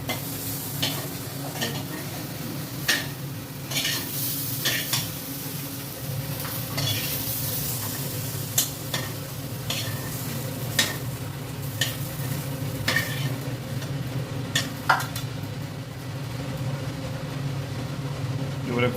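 Potatoes sizzle continuously in a frying pan while a utensil stirs and scrapes them at irregular intervals, loud and near.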